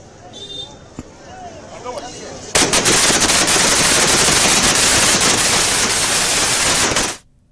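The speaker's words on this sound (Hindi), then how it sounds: "संतों के साथ में आतिशबाजी कर जश्न मनाया" Fireworks are set off at a celebration in Ayodhya with saints, a dense, loud crackling barrage of rapid bangs that starts abruptly and continues for several seconds before cutting off, with voices in the crowd beforehand.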